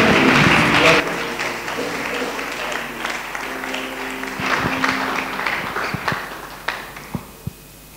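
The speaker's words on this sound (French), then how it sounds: "We clap for the Lord?" A church congregation claps loudly at a service. The dense clapping is strongest at the start, then thins into scattered, separate claps toward the end, with voices mixed in.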